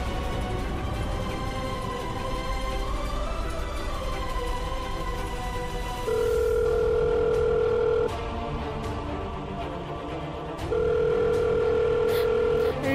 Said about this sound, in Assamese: এতিয়া কৰা ফোন এটা